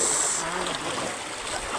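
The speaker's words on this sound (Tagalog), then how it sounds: "malakas yung tubig, malakas yung agos" Steady, broadband rushing of fast-flowing river water, loud and continuous with no pauses, close by.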